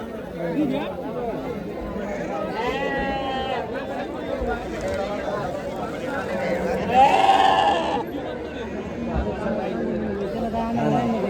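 Sheep bleat repeatedly amid a busy crowd at a large livestock market in Maharashtra, with many people chattering and calling nearby; one louder bleat stands out partway through.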